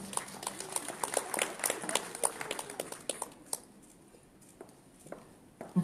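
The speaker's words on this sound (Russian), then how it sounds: "Ваши аплодисменты." Audience applause for business-project finalists at a case conference in Pskov, quiet and dense at first, then thinning after about three seconds into scattered, fading claps.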